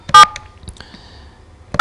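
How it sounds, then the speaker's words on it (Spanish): A few phone keypad tones beep in quick succession, with short pauses and faint clicks between them, clear and close. "voy a ir marcando su número de teléfono"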